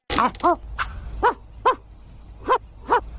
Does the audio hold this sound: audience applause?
no